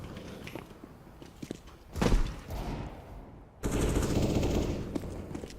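Shooter video game gunfire rattles in quick bursts, some louder and closer, alongside thuds and steps that suggest movement.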